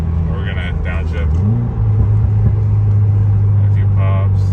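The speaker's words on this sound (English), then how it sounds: "We're gonna downshift" A 2021 Subaru WRX fitted with an STI short throw shifter drones loudly through a second gear pull, its engine note climbing sharply as it downshifts and then holding a steady roar.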